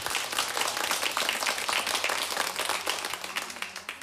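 An audience at a children's stage show bursts into applause, dense close clapping that stays lively and loud for the full four seconds, slowly thinning toward the end.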